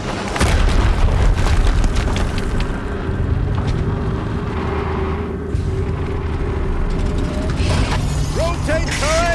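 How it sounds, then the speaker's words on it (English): A big explosion in the video game Horizon Zero Dawn: a loud, sustained booming rumble with mechanical clanking and rattling layered through it, staying dense and heavy for several seconds. "Another explosion."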